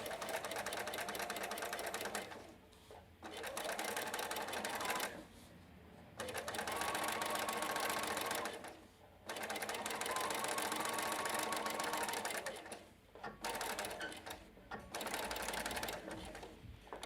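A sewing machine runs in long steady bursts stitching a welt pocket flap, its fast mechanical whir starting and stopping several times with short pauses between runs.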